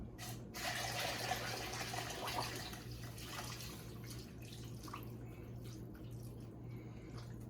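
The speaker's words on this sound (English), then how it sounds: "We're going to cover these with water." Water pours steadily into a pot with a rushing, splashing sound that gradually softens as the level rises, with a low hum underneath.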